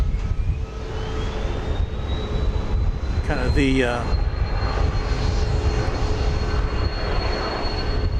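Steady roar of a Hawaiian Airlines Boeing 717 jet engine at Dallas Love Field, a loud continuous rumble with a rising whine throughout, briefly overlaid by a person speaking.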